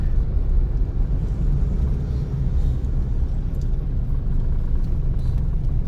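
A city bus drives along in Thailand, heard from on board as a loud, steady low engine and road rumble that fills the whole stretch without a break.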